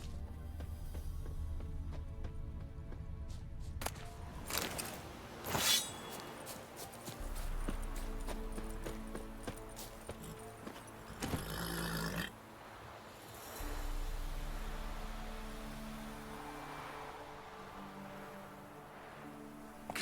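Roach the horse gallops in The Witcher 3 video game, a run of hoof clip-clops with bursts of louder in-game noise and music, moderately loud throughout with no talk.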